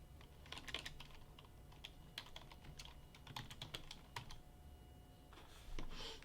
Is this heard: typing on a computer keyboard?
yes